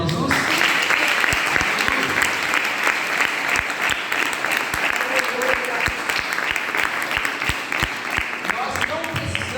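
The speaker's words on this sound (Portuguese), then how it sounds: "Você pode dar uma salva de palmas para Jesus?" A church congregation applauds steadily throughout, dense and continuous clapping with some sharp individual claps standing out, with voices mixed in underneath.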